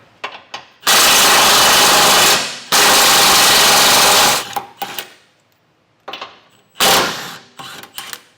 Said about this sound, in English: get these removed using a 21mm socket.